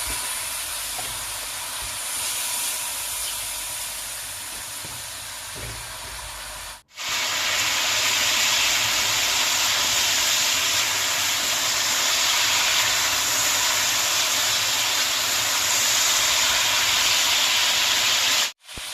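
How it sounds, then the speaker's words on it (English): Spicy Korean beef stir-frying over high heat produces a loud, dense, steady hiss. It cuts out briefly twice, then resumes, with no voices over it. "we're going to cook it for at least 2 minutes in a high heat. So we're going to stir it up."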